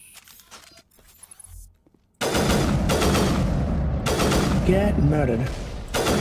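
Rapid automatic gunfire from a weapon in a space-themed shooter video game bursts out loud and continuous after a quiet start, with sci-fi effects and a voice talking over it.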